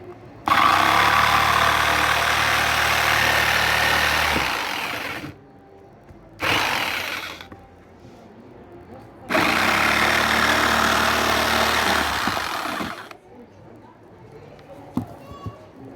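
A Piranha 500 W, 3000 rpm jigsaw saws out a piece in two long loud bursts with a brief one between, its motor whine and blade chatter stopping into quiet gaps.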